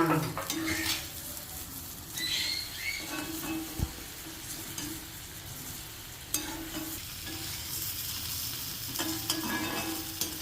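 Fried bitter gourd pieces are stirred into a pan of sizzling oil. A continuous close sizzle runs under scattered clinks and scrapes of a metal spoon against the pan, with no one speaking.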